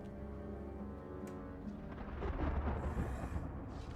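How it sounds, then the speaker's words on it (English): Thunder rolls in a dark stormy setting as a low rumble that swells midway into a heavier, closer growl before easing back, with no voices over it. "Darkness. Lightning."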